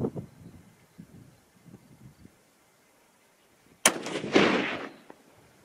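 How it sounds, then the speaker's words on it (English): A .243 Winchester rifle loaded with 100 grain Sierra GameKing bullets fires one sharp, fairly loud shot with a ragged, rolling echo behind it, after a stretch of faint outdoor rustling and quiet knocks. "Three shots with the 100 grain Sierra Game King."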